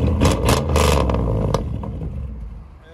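A 2000 Chevy Tahoe 5.3L V8 with straight-piped true dual exhaust blips its throttle in quick, loud, raspy revs, then drops back toward a rumbling idle, close by and with no speech.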